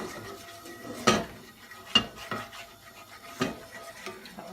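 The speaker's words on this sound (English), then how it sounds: "let's give that a little stir" A spoon stirs a vegetable goulash in a pot, with a few sharp scrapes and clinks against the pot's side standing out over quiet background rustle.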